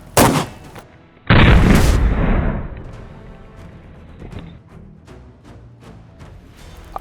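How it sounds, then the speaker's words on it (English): A 12 gauge shotgun firing double aught buckshot at a Russian 6B47 army helmet: a sharp blast, then a second louder boom with a long rumbling decay, followed by small scattered clicks and handling sounds outdoors. "we're gonna try a shotgun 12 gauge because you know what?"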